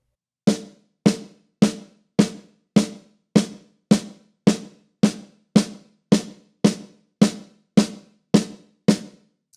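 A drum, likely a snare, played slowly as a beginner sixteenth-note exercise with right-left-left sticking: evenly spaced, crisp single strokes at a steady, unhurried pulse, close and alone with no voices.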